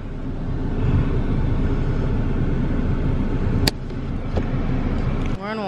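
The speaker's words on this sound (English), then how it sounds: "We're in the car now." Steady low road rumble inside a moving car, a continuous engine and tyre drone with a brief click and a rising tone near the end; muffled talk sits under it.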